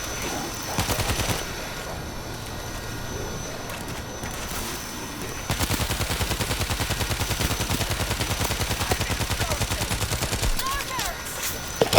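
Rapid automatic gunfire from the zombie shooter game World War Z: Aftermath, set in a Marseille mine level: scattered shots early, then a long sustained run of fast, evenly spaced bursts with players talking over the action.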